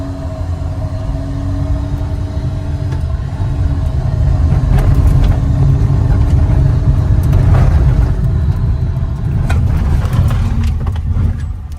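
A car with a gearbox fault, stuck unable to change gears, drives steadily with a loud, continuous mid-range engine rumble and road noise that swells slightly partway through, with no talking.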